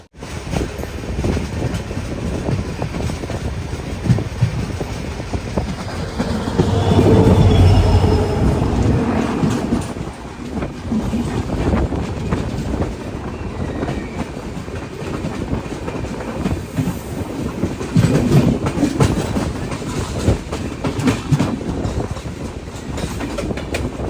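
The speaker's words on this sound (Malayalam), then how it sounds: "ഇവിടത്തേക്ക് ഇപ്പോൾ ഒരു ട്രെയിൻ വരും, യശ്വന്ത്പൂർ വാസ്കോഡ ഗാമ എക്സ്പ്രസ്." The Yesvantpur–Vasco da Gama Express rolls past, its heavy rumble swelling loud early on, then a long run of wheel clatter and squealing rail noise over the track, close and continuous.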